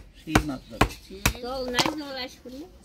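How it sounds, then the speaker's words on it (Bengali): A knife chops through a fish head on a board in a home kitchen, four sharp, separate strikes about half a second apart, with someone talking between the cuts. "মুড়াটা কাটে নিলাম"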